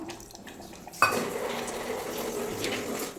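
A metal spoon scrapes and clinks against a pot as mutton leg soup ingredients are mixed with water, beginning with a sharp knock and continuing as close rubbing.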